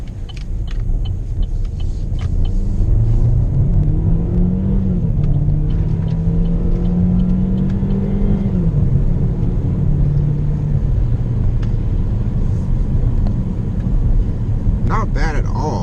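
A 2017 Chevrolet Sonic Premier with a turbocharged four-cylinder engine drives along, heard from inside the cabin as a loud, steady engine drone that climbs in pitch under acceleration, then settles, over continuous road rumble.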